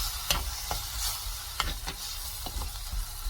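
Onion paste sizzles steadily in a pan as it is sautéed for a mushroom gravy, with soft frying hiss underneath and several sharp scraping clicks as a spoon stirs it, quiet and close.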